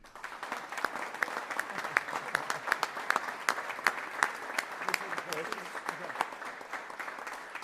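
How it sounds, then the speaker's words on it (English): Steady applause from a crowd, with dense clapping that holds for several seconds at moderate loudness. "We need to give her a round of applause"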